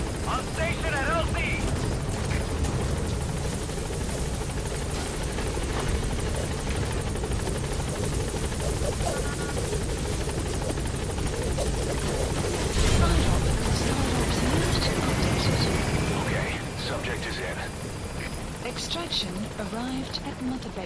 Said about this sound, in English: Please support helicopter Roger. Requested.